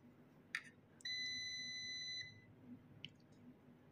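A multimeter on continuity setting gives a single clear electronic beep of about a second while probing a capacitor on a Tata EDC17C55 ECM board, framed by faint probe clicks in a quiet workshop.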